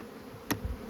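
Honey bees crawling on a hive frame during queen rearing, a faint low buzz with one brief sharp click and a couple of soft knocks, under a second long.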